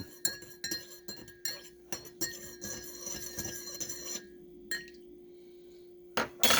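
A spoon clinks repeatedly against a cup while stirring brewed coffee with half and half, giving a series of light, close metallic taps followed by a softer scraping stir.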